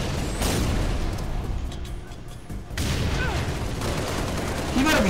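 Dense gunfire and explosive blasts fill a Halo Reach firefight on Legendary, loud sustained bursts with a brief lull midway and a heavy boom at the end, with faint voices mixed in.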